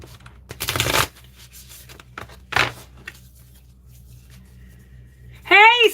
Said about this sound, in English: I'm going to give these an extra shuffle.